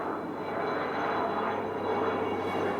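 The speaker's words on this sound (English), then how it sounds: "There's the helicopter with a water bucket hanging from it, doing some forest firefighting." A firefighting helicopter with a water bucket slung beneath it works a forest fire, its engine and rotors making a steady, continuous drone at moderate distance with no voices.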